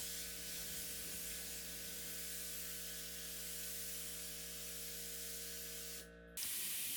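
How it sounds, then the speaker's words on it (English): A steady, continuous hiss of spray paint on a 1970s drum table runs nearly unbroken, then briefly dips and resumes louder near the end; close and loud, no voices. "once I finished spraying the body, I sprayed the top as well"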